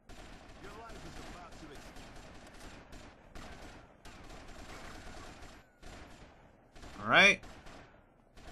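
Gunfire in GTA Vice City Stories on the PSP, scattered bursts of shots crackling at moderate level through the mix, with a voice breaking in and one louder sharp outburst near the end.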